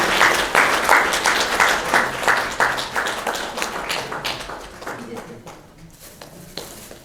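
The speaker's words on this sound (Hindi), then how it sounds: "सभी से निवेदन कृपया ताली बजाएं।" Audience at a literary seminar and award ceremony claps in a loud, rhythmic round that gradually thins and fades, with a voice talking over it near the end.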